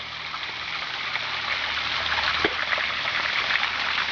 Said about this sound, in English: here's more close-up of the water falling down